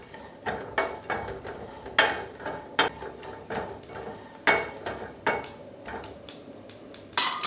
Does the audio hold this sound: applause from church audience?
no